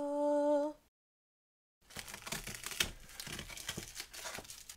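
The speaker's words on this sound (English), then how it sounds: "So now, it's time to peel to reveal." Protective film crinkling and tearing as it is peeled off an acrylic panel, a close, crackling rustle that starts after a brief tone and a moment of silence and continues unevenly to the end.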